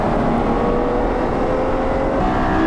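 A Ferrari, an 812 Superfast or F12, driving on a racetrack through a chicane, its engine a loud, continuous close roar throughout the short stretch, with no talk.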